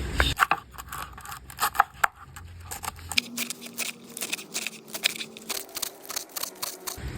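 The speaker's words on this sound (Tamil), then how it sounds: "கீரையை நல்லா குட்டி குட்டியா கட் பண்ணி எடுத்துக்கலாம்" Rapid snipping and crisp cutting sounds, irregular clusters of sharp clicks close by, as radish greens are chopped into small pieces.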